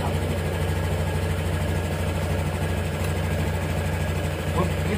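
A black 2022 Honda Scoopy Sporty scooter engine runs at a steady, continuous idle up close, with a low even hum and faint vibration throughout and no clear start-up burst.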